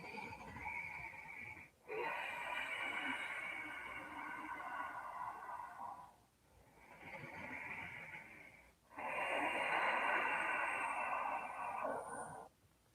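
Slow, deep breaths during a shoulder-opening stretching exercise, drawn in long, steady phases with brief pauses between them, close and fairly loud, with no talking.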